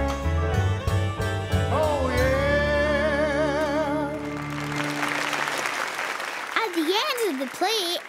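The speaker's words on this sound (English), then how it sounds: "everyone clapped." An audience breaks into applause, broad clapping that starts after a stretch of music and builds to a steady wash, with a voice speaking over the end.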